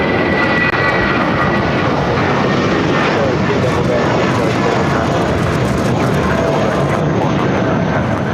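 A JetBlue Airbus A321 airliner at LAX gives off a loud, steady engine roar that fills the whole stretch without break, with faint talk underneath.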